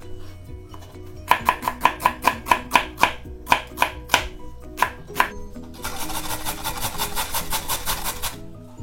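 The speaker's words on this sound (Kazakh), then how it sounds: "пиязды майда кылып турайм" An onion being finely chopped with a knife on a board, a quick even run of about a dozen sharp close chops, then a few slower ones, then a denser rapid stretch of rhythmic knife taps.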